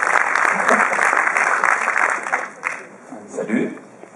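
An audience applauds at a film festival screening, dense clapping filling the first couple of seconds before thinning out as a voice begins speaking underneath.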